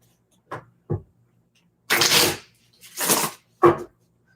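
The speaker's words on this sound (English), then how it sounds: "give me a second to shuffle" Tarot cards are shuffled in short bursts: two quick soft riffles, then three longer, louder riffling sweeps, close to the microphone in an otherwise quiet room.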